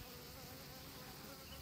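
Honeybees buzz in a dense, steady hum around a queen being marked, a constant swarm drone close by and fairly quiet, with no voices.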